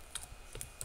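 Light keystrokes on a computer keyboard tap out a terminal command, a handful of quiet, irregular clicks heard close up in a short burst with no one speaking.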